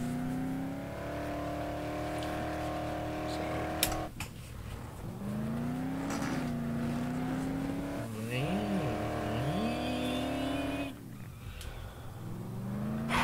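A truck driven in the video game Dead Island gives a steady engine drone with pitch rising and falling as it revs and shifts, plus a few squeals and knocks along the way. The sound is continuous and fairly loud.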